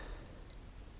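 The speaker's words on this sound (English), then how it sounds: "if you press and hold this button, that gives you a demonstration of the alarm" A Casio F91W digital watch sounds its alarm demonstration, a single brief, high electronic beep in an otherwise quiet room.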